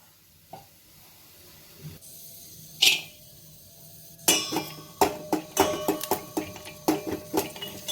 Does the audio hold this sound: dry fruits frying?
yes